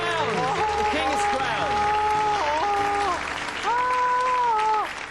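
Studio audience applause and cheering for a crowned oldest viewer on a comedy show, sustained clapping beneath a presenter's voice and some musical stings.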